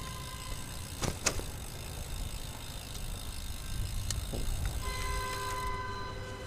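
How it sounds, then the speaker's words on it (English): A train rumbles past with a low steady roar, sharp metallic squeals and clanks rising above it, and a faint horn-like tone near the end. "Here comes a train."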